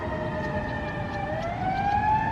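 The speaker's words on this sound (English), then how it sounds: "I think the Sirens is a good background for this" Emergency vehicle sirens wail steadily outdoors, several overlapping rising and falling tones sounding fairly close and continuous throughout, with no talking.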